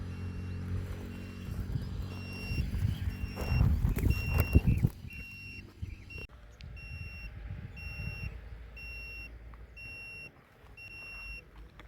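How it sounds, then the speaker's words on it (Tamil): A rumbling, clattering industrial roar of a stone crusher at a quarry, loud at first then fading into a distant drone with steady high electronic beeps. "இப்போ கிரசர் சத்தம் தான் கேட்கு"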